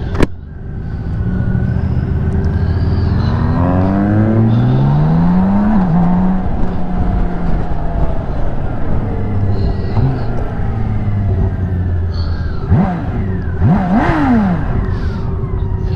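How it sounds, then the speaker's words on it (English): A BMW K1600B Midnight Edition motorcycle's six-cylinder engine revs on the road, with engine pitch climbing and dropping through several rising pulls over a steady loud rumble and wind, and a couple of quick blips near the end. "It sounds like it revs like a 4-cylinder bike."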